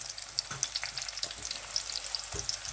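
Garlic sizzles and crackles in a hot pan for chicken karahi, a steady close frying hiss broken by small pops and a few soft stirring knocks.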